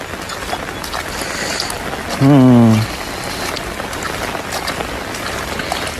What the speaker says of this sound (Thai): ฝนตกเด้